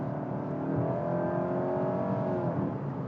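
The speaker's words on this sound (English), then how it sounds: "let's go ahead and just mash on the throttle" A Nissan Altima sedan accelerates hard at full throttle, its engine note rising steadily and loud from inside the cabin with a continuous drone and climbing harmonics, no one talking.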